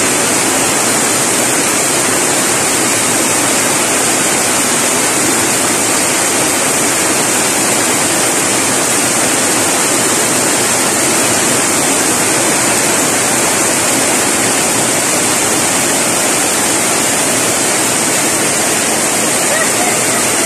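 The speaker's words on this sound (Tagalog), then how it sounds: "Kaya binuksan ko para yung ulan pumasok sa balon." Heavy rain pours steadily into an open farm water well during a strong downpour, a loud, continuous dense roar of falling water with no pauses, filling the whole scene.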